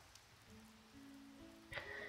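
Soft, steady rain patter in the video game Douse, a light hiss of falling drops with a few faint tonal game sounds and a brief chime near the end, no voices.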